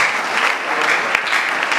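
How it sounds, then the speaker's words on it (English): An audience claps for a speaker at a formal gathering, loud and close. The dense, steady applause runs through the whole short stretch with no talk over it. "Round of applause for him."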